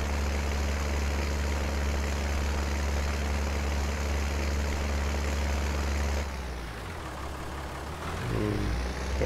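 A farm tractor engine runs with a steady low drone and droning mechanical hum, fairly close, then the tone shifts and wavers as the load changes during fieldwork.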